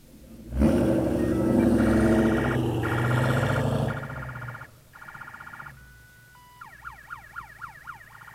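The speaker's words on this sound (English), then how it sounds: "show them the sirens" An engine revs loudly, then electronic siren tones play in turn: steady beeping, a held tone, then a fast warbling wail, fairly close.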